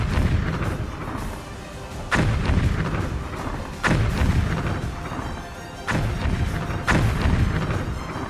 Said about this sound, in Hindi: बारूदी धमाकों का शोर पहले जैसा है